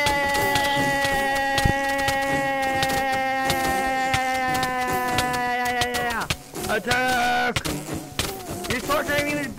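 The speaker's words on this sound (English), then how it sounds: "Are you gonna try to make me hit a bee?" Bees buzzing in Minecraft, a steady droning hum with layered harmonics that runs under frequent clicks and game noises, breaking up near the end.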